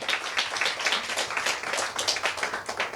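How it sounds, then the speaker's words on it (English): Scattered audience clapping at a talk, individual claps distinct and irregular, moderately close and fairly quiet, with no voices over it. "Just give a big round of applause to Merala and Ian."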